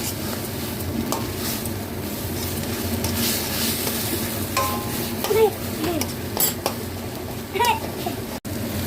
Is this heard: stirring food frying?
yes